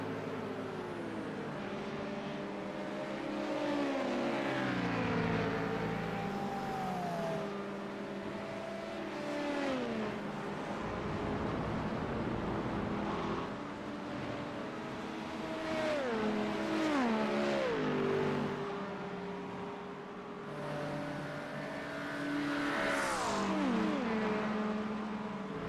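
LMP2 prototype race cars and a Mustang race past at Road America, engines rising and falling in pitch as they pass and shift through gears. Several cars pass in overlapping waves, loud and fairly close, with no talk.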